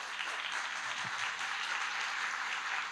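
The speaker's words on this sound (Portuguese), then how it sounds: "Peço uma salva de palmas" An audience at an architecture conference session applauds a guest speaker, a steady, even wash of clapping that fills the room for the full length.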